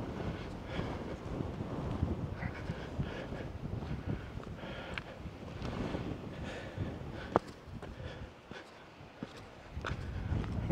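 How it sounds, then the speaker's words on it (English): Strong gusty wind on a Cornish coast path near Polly Joke cove, roaring and buffeting the microphone in uneven surges, briefly easing near the end. "that wind is not very nice."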